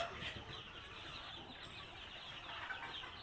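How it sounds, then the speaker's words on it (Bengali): On a poultry farm full of broiler chickens and young chicks, a faint, dense chatter of clucking and peeping carries on steadily from the flock. "অনেক ফার্মি মুরগ এখানে"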